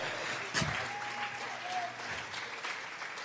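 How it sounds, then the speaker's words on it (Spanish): A church congregation applauds as an offering of praise, a steady wash of clapping sustained throughout with a sharp burst near the start and faint voices mixed in. "vamos a regalarle ofrenda de palmas al Dios de la gloria"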